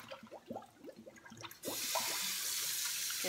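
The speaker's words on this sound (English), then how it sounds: "Go ahead and pour this out." Water poured out of a container used to wash lettuce, first sporadic clunks and handling sounds, then a sudden steady loud rush of water at close range.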